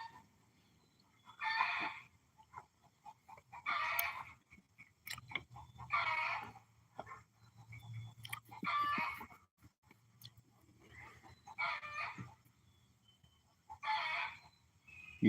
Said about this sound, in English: I don't know if you can hear that, but that's one of our chickens,